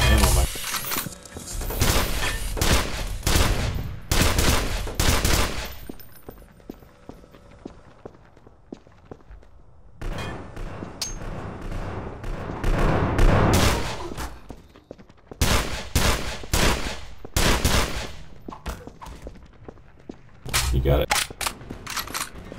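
Rapid gunfire in the first-person shooter E.Y.E Divine Cybermancy, loud repeated bursts of shots and impacts with brief lulls between volleys, continuing through the whole passage.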